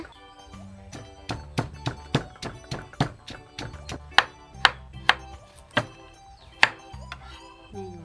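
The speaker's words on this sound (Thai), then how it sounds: "แล้วแม่ก็โขลกพริกไทย จากพริกไทย หอมแดง โขลกรวมกันไปเลยนะ" Peppercorns and shallots are pounded together in a mortar with a pestle, a run of about twenty loud, close, evenly spaced thuds with sharp knocking attacks, quickening slightly, with no talking over them.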